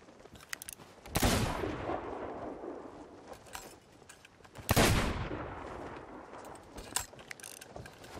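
Sniper rifle shots in the pirate video game Sea of Thieves, two sharp loud cracks several seconds apart, each trailing off in a long echoing decay, with quieter clicks and mechanical clatter between.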